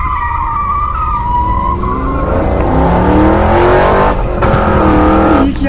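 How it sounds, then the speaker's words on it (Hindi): A getaway car tears off with tyres skidding and squealing, a loud continuous engine roar with rising, sweeping tones that stays close and fills the whole stretch. "ये चारों तो गाड़ी लेकर यहाँ से भाग रहे हैं"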